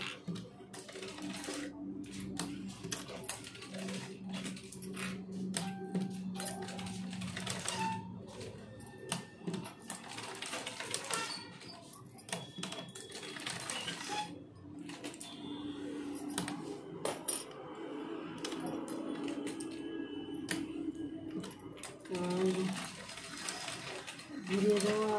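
A sewing machine stitches a blouse in bursts of rapid mechanical clatter with pauses between runs, close by, while someone talks over and between the stitching.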